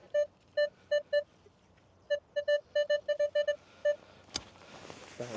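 Electronic beeps from a metal detector repeat in short bursts, some steady, some quick, then a brief scrape near the end; close and clear with no talking.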